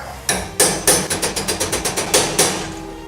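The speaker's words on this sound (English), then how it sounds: "I'm just going to take the flat end to give me something to hammer up against and just kind of work it a little bit." A hammer strikes metal armor frame stock worked against the flat end of a tool, about a dozen sharp ringing blows in a steady, fairly quick rhythm, close and loud.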